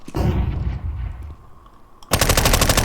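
Counter-Strike 2 gunfire, with a burst of rapid shots up close, a quieter gap with a brief click, then another dense, loud burst of automatic fire at the end.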